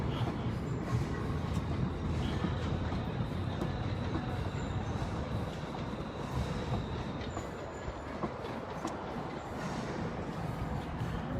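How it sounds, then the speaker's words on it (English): A train rumbles past continuously, heavy rolling wheels with faint squeals and rattles, steady and fairly close throughout. "A lonesome train going in."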